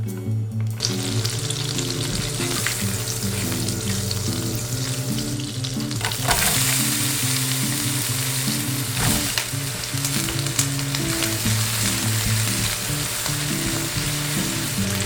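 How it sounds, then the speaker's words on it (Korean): Onions and mushrooms sauté in melted butter in a pan still holding meat juices from fried patties, a loud, continuous close sizzle with occasional stirring, over a steady background melody. "육즙에 가득한 팬에 버터를 녹이고 양파와 버섯을 볶아줍니다."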